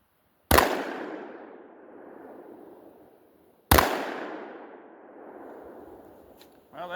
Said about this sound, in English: So let's shoot a few more at 15.